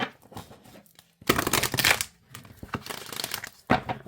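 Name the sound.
shuffling large cards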